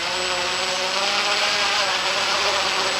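Model helicopter engine winding up as the throttle opens toward a hover: a steady, dense high-pitched whine with a constant tonal buzz, continuous and fairly loud for the whole stretch, no voices.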